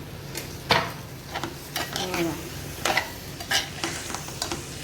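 Wild ulshi flower greens (gaboli) fry in a pan in Agri style, with a steady sizzle and repeated spatula scrapes and clinks against the pan, and a faint voice briefly underneath.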